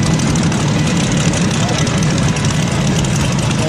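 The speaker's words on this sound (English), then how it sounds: "The sound is deep and violent, very close to an aircraft at full throttle." A classic car powered by an aircraft engine runs with a deep, loud, continuous roar, a steady rumbling drone dominated by low tones with no breaks.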